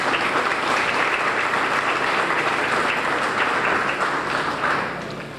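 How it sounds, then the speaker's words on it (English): Audience applause at an outdoor farm agriculture field day, a sustained, even burst of clapping from a sizable crowd that holds steady for about five seconds before tapering off. "will you please give them a hand of applause?"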